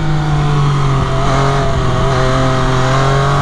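Loud, close engine note of an MV Agusta F3 800 RR motorcycle accelerating, a steady high-pitched howl with stacked harmonics holding strong throughout.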